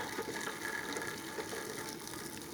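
Boiling water poured onto a cracked plate for a Christmas pudding, a faint steady trickling splash that continues evenly throughout with no voices.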